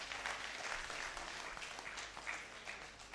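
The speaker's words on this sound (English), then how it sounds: "So give a clap for Narendranath Datta sir." An audience at a medical conference claps steadily throughout, a dense, even patter of applause at moderate distance with no voices on top.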